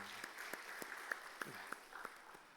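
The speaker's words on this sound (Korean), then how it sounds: "이 시간 우리 박수로 한번 격려할까요?" A church youth congregation applauds the choir during a worship service, faint, distant clapping with a few distinct sharper claps standing out and a brief voice at the start.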